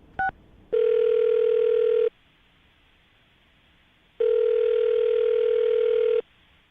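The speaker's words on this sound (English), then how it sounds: "I'm about to dial Terrence's phone number" A telephone being dialed: one short tone blip followed by two long, steady ringback tones of about one and a half to two seconds each, separated by silence, close and clear with no talking.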